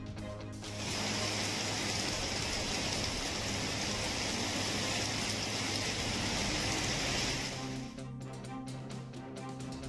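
Heavy downpour in Dindigul sending water flooding along the roads, a dense steady hiss of rain that holds for several seconds, then drops to a quieter patter near the end.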